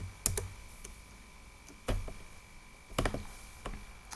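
Keys clack on a computer keyboard in a few scattered, separate bursts of taps, close by, with a faint steady hum between them.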